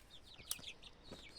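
Faint chirps and soft clucks from a small group of chicks in an open cage near their hen, high peeps scattered irregularly over a quiet farmyard background.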